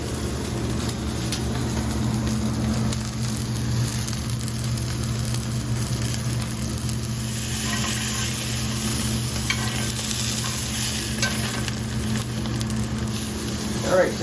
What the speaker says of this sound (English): we're just going to let these sizzle for a few minutes